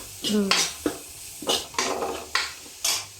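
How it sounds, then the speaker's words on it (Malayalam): Pieces of plantain go into a cooking pan with a series of five short, sharp clattering bursts of metal and food, each followed by a brief sizzle, close by. "ഇവിടെ കായ ഇട്ട് കൊടുക്കും കേട്ടോ."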